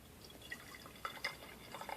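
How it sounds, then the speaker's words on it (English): Sugar water trickling and dripping into a glass, a few soft, bright plinks and splashes scattered over two seconds, close and quiet with no talking. "I'm going to pour the water. This is still the sugar water"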